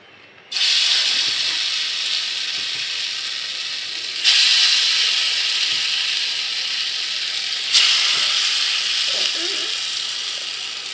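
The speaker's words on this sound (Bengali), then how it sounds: "ডালের বড়াগুলো বেজে নেব" Lentil fritters (dal bora) go into hot oil in three separate batches, each bringing a sudden surge of loud hissing sizzle that slowly eases before the next, with faint background sounds beneath.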